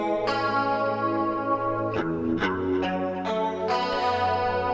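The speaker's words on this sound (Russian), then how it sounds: "какой трек в стиле 80-х без прозрачной клин гитары с кучей хоруса," An 80s-style clean electric guitar drenched in heavy chorus plays shimmering, wavering picked notes and chords with a spacious, echoing tail, bright and up front with no voices.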